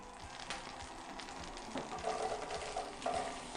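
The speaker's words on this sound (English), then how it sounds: "I add a dollop of butter." A dollop of butter melts and sizzles in a frying pan, a soft crackling fry with small pops and a light scrape, ahead of cooking silverbeet (Swiss chard).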